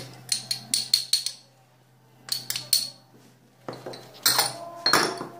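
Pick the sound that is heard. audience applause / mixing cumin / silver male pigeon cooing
mixing cumin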